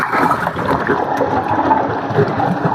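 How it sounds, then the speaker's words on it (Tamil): Water gushing steadily into a large biryani cooking pot, a continuous close splashing and gurgling pour with no pause, for a batch of 30 kg rice and 30 kg meat. "30 கிலோவுக்கு 45 லிட்டர் தண்ணி ஊற்றுறோங்க."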